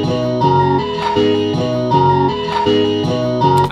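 Chopped vlog-style music loop sliced in Fruity Slicer and pitched down three semitones, playing as a steady loud instrumental with repeating chord stabs at roughly half-second intervals and no voices.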